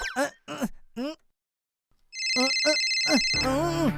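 An electronic mobile phone ringtone plays a repeating melodic tone, following a few spoken words and a brief pause; talk continues over the ringing.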